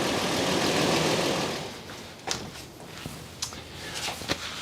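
A 2006 Toyota engine idles after an Amsoil oil change, a steady low hum that starts as a broad rush and settles into a quieter drone with occasional faint ticks and clicks.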